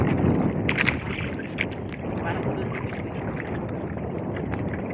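Small fishing boat on open water with its engine running: a steady mechanical drone with wind buffeting the microphone, loudest at the start and holding steady after that.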